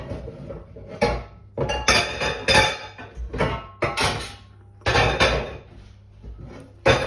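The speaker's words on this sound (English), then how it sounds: "Let me just get a frying pan." Metal pans and cookware clatter and clank in a series of sharp bangs and rattles, with a drawer or cupboard being rummaged through nearby.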